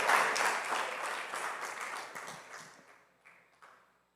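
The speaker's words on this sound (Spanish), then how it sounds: "Un aplauso para el Señor, Dios Todopoderoso." A church congregation applauds during a worship service, a dense round of clapping that starts loud and gradually thins and fades away over about four seconds.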